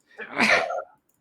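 A single person sneezes close by, one sharp burst lasting under a second, then silence.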